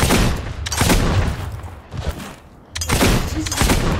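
Gunfire from shooting enemies in the video game Fable II crackles in dense, loud bursts of rapid shots, broken by a short lull before the fusillade resumes.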